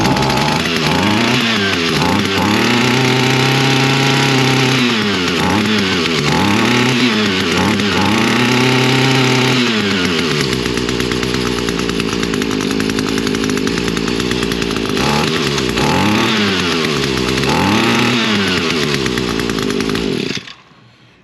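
An Echo PAS-225 weed eater engine with a failing coil, a little flooded, runs at full throttle, loud and close, rising and falling in repeated revving surges before holding steadier, then cutting off abruptly near the end, with no talk.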